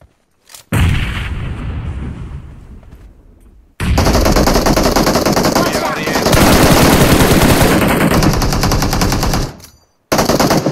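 Rapid, loud automatic gunfire from PUBG Mobile on the Erangel map, bursts of machine-gun and rifle shots chattering almost continuously with short pauses, close and dense, with faint voice chat underneath.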